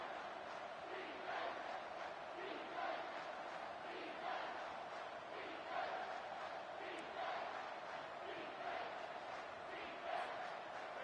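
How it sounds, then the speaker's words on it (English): Stadium crowd at a college football game between New Mexico and UTSA on a late third down, a loud, sustained roar with rhythmic swells of chanting and cheering, heard from a distance without clear speech. "They not only have to deal with this defense, but the noise from this crowd on 3rd and 4."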